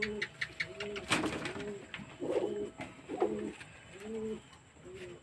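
Domestic pigeons coo in repeated soft, rounded calls at a loft, several birds overlapping in a slow rhythm, fairly near and quiet, with faint rustles and no talking.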